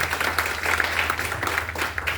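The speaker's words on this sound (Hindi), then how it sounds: "एक बार आप लोग जोरदार तालियां बजा दें।" Audience applause after a request for loud clapping at a Hindi-language event, a steady dense wash of many hands clapping at once, fairly loud and continuous, with a low steady hum underneath.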